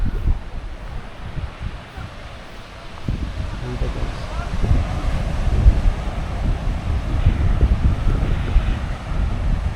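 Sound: strong ocean waves on beach

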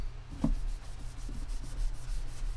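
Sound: sanding varnish off a guitar

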